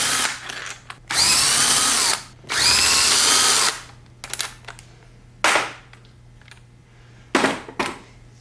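A power tool whirs in several bursts while removing extension housing bolts on a Muncie M22 transmission: two long, loud buzzing runs followed by shorter sharp zips and clicks, close and without talk.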